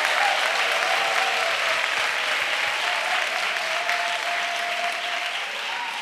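A congregation at a missionary retreat applauds in a dense, steady wash of clapping that holds at an even level, loud and continuous from start to finish.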